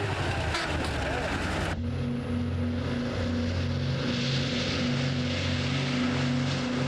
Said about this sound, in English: An old American DC-6 still does service in the Salvadoran Air Force, off on a strafing mission.